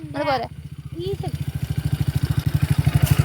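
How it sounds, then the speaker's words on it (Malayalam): A motorcycle engine putters rhythmically nearby, growing slightly louder, after a brief spoken phrase at the start. "അവിടെ ബൈക്ക് വരുന്നുണ്ട് അരൂക്ക്."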